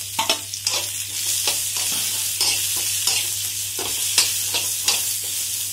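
Sliced onions fry and sizzle in hot oil for a rice pulao with kidney beans, with a steady broad hiss broken by a regular series of sharp scraping stirs from a spoon in the pan, close and fairly loud.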